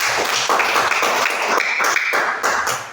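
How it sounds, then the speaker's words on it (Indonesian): A classroom of students clapping hands together in unison, a dense, steady burst of many claps close by, sustained loudly for the whole stretch before tapering at the end. "Semua tepuk tangan dulu bersama"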